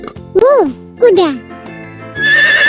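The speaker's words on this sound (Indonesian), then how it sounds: "Kuda." A horse neighs twice in quick succession, loud and close, the whinnies rising and falling, followed by a brighter tonal jingle as background music plays throughout.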